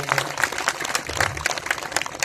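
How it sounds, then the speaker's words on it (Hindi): A crowd at an outdoor statue unveiling for Maharaja Suheldev in Jaunpur applauds to welcome a minister, a steady, somewhat distant patter of many hands clapping at moderate loudness. "आप लोग जोरदार तालियों से उनका स्वागत करेंगे"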